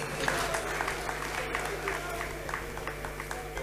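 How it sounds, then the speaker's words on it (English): Audience at a live entertainment event in a busy hall, applauding and cheering at a moderate level for an introduced guest, with crowd chatter and talk running underneath. "Round of applause, please."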